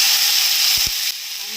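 Garlic, coconut and coriander tempering sizzling in a hot pan, a loud, steady frying hiss with a couple of brief low knocks midway, after which the sizzle drops a little and continues.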